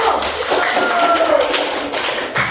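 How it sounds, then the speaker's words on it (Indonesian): A classroom group applauds for a presenting student team at an Indonesian teacher-training session, with dense, steady clapping of many hands at close range, loud and continuous throughout. "beri tepuk tangan dulu untuk kelompok 1"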